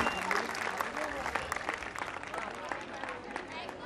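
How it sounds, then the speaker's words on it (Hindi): An audience at a Durga Puja stage event applauds with steady, fairly faint clapping under a speaking voice. "जोरदार तालियां हो जाए आत्या के लिए।"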